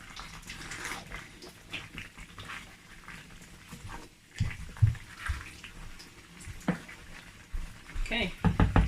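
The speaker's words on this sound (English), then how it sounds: "I'll continue stirring it so that it doesn't burn" A stew with boiled egg is stirred in a pot, producing soft scraping and gentle bubbling at close range, quiet and irregular, with louder knocks and clatter near the end.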